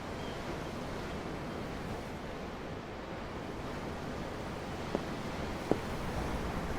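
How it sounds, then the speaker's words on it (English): Steady ocean surf washes in a broad, even hiss throughout, with wind mixed in and two tiny clicks near the end; waves in the Tales of Arise video game, heard from aboard a ship. "The waves. They help me think."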